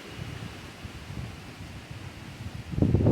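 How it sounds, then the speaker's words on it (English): Gusty wind buffets the microphone in low rumbling bursts, swelling louder near the end, with no voices. "It's fucking windy out here"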